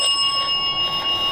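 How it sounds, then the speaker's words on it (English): A touch-activated electronic bell device gives off a sustained, clear ringing tone with steady overtones, mid-loud and close, with no voices over it. "If you touch it, it will just make a normal bell sound."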